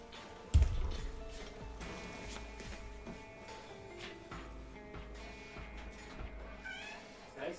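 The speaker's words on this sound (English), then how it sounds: "Cats want their food." Hungry house cats meow repeatedly for food in a room, several drawn-out meows at moderate volume over a low background of faint game sounds, after a sharp thump near the start.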